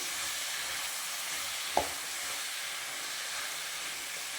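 Bay leaf and mint sizzle in hot oil as part of a mushroom gravy with fresh peas, a steady broadband hiss with one brief knock near the middle.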